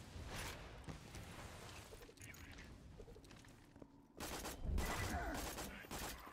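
A launcher fires in Borderlands 2, producing a string of sharp bursts and crackling blasts that swell louder near the end, mixed with scattered chirpy game effects over a busy background.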